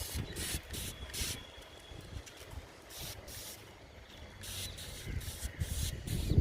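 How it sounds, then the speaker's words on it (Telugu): Neem oil mixture is sprayed onto a ridge gourd plant, with repeated short bursts of soft hissing spray from a hand sprayer, fairly close and quiet, with no talk. "ఈ కొమ్మకు కూడా స్ప్రే చేస్తున్నాను."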